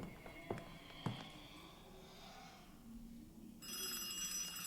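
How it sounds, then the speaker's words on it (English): In a horror video game, a telephone bell rings faintly. A couple of sharp knocks come early, and a brighter, louder ringing tone swells near the end. "Where the fuck is this ringing?"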